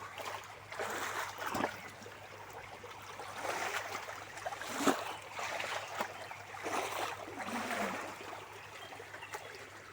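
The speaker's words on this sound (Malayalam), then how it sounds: "ഈ വെള്ളത്തിൻ്റെ ശബ്ദമൊക്കെ കേൾക്കാൻ എന്ത് രസമായിട്ടുള്ള ശബ്ദമാണ്" Steady flowing water from a small stream, a soft continuous wash with faint trickles and splashes throughout, no voices.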